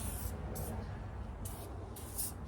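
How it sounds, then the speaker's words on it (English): Short bursts of Super Clean degreaser sprayed onto a dirty dually truck box, four hissing squirts of varying length over a steady low background rumble, close and fairly quiet. "we're gonna spray this with some Super Clean"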